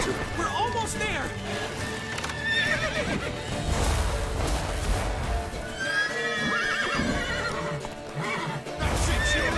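A horse neighs and whinnies repeatedly over galloping hooves in The Witcher video game, with urgent voices shouting throughout.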